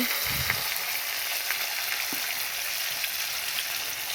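Whole spices sizzle steadily in hot oil left from frying silver carp fish, with a continuous close hiss and crackle and a few soft stirring clicks.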